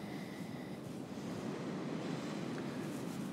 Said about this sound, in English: Every now and again, you get some pretty decent waves sort of crashing over it.